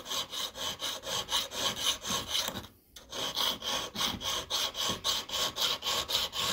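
A hand file rasps back and forth across a silver coin ring in quick, even strokes, a close, bright scraping rhythm that stops for a brief moment before resuming.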